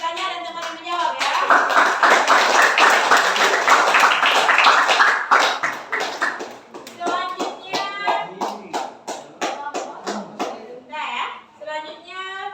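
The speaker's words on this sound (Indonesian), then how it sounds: "Kita kasih tepuk tangan untuk teman yang bertanya dan teman yang menjawab ya" A classroom of children clapping for classmates, a dense round of applause that thins into scattered claps, with children's voices and a teacher talking over the later part, close and fairly loud.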